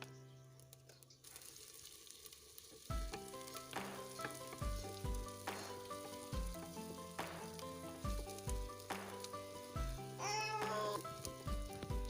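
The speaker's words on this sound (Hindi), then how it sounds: "अदरक लहसुन के पेस्ट को भी हल्का सा भून लेंगे" Ginger garlic paste sizzles and fries in a pan while aloo gobi is cooked, a steady close crackle with occasional stirring scrapes and no talk.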